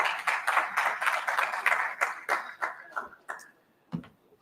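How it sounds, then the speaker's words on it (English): Audience applause after a conference presentation on antimicrobial resistance, a crisp burst of clapping that thins out and fades to a few scattered claps within a few seconds. "Again, a round of applause for Francis for taking, keeping within the t"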